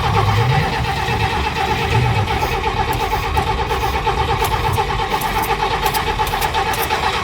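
A $10 million car's engine cranking over repeatedly without catching, a steady rhythmic whirring churn that runs on for several seconds, close and fairly loud, with no voices over it.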